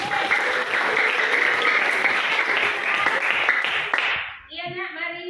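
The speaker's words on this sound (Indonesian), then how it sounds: "tepuk tangan untuk Jihan" Classroom applause from students, a dense steady patter for about four seconds that then stops as a voice begins speaking.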